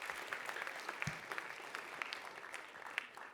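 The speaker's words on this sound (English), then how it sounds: "So clap it up for yourselves as well." Student audience at a school writers week event clapping for themselves, a lively, dense burst of applause with sharp individual claps standing out, a little faint crowd murmur underneath.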